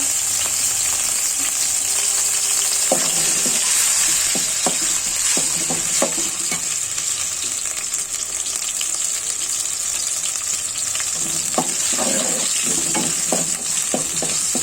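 Whole cumin seeds sizzle steadily in hot oil in a pan, with intermittent scraping and stirring strokes from a spoon over a continuous loud frying hiss, close to the pan and free of talk.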